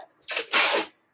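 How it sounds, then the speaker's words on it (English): Two quick bursts of packing tape ripping off a roll and being pressed down onto a parcel, loud and close, with a brief pause between them. "So yeah, this one is going to the UK. So let's get this one taped up."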